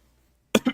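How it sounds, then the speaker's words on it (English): A single short cough from a person, close and clear, split into two quick bursts after near silence. "I got a cough"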